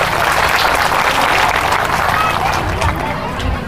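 An audience at a community gathering applauds, a dense, steady wash of clapping that holds for a few seconds and fades slightly at the end, with some crowd murmur mixed in.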